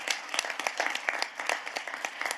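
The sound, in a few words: audience applause at a conference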